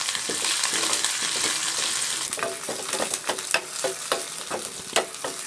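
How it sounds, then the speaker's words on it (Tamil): Four or five small onions, sliced lengthwise, fry in hot oil with popped mustard seeds for a sambar tempering: a constant bright sizzle broken by repeated crisp scrapes and clicks of stirring, close and loud. "ஒரு 4-5 சின்ன வெங்காயத்தை நீட்டமாக கட் பண்ணி வச்சுருக்கேன்"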